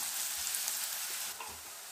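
A medium-sized onion, finely chopped, fries over low heat in a pan with a soft, steady sizzle and faint crackles, close by and without talking.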